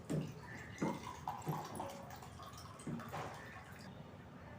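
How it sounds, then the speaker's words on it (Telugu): Water poured from a glass onto rice in a pot while making moong dal pongal, a soft splashing fill with small drips, moderately faint in a kitchen setting. "ఇందులో 3 గ్లాసులు నీళ్ళు పోస్తాం."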